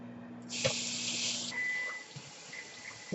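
Hot water gushes from a kitchen tap for about a second in a loud, close burst, then drops to a faint trickle and quiet clinks.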